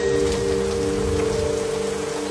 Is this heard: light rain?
yes